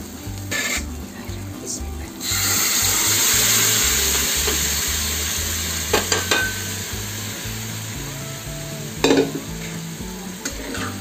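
Black-eyed peas (chawli) tip into a pan of frying masala, bringing a surge of loud, dense sizzling that continues with spatula scrapes and a couple of sharp clanks against the pan; no voices.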